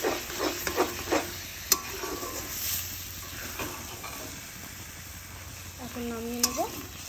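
Taro pieces fry and get stirred dry in a pan, giving a soft steady sizzle with scattered scraping stirs and a few louder utensil clinks near the end.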